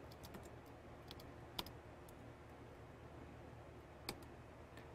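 Keystrokes on a computer keyboard while entering a router command, a few sparse, sharp clicks spread over several seconds against a steady low background hum.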